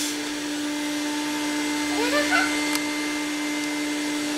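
An Evertop cordless 3-in-1 vacuum cleaner switched on and running, giving a steady close motor whine and hum that holds throughout, with a brief rise in pitch midway.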